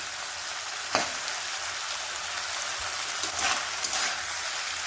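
Pork sizzles and fries in its own rendered fat with no oil added, a steady broadband crackle with a few sharper pops and stirring scrapes, close and continuous.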